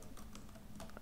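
Rapid, light clicking on a computer keyboard or mouse, the kind of fast input used while playing League of Legends, a quick flurry of soft taps heard close and faint.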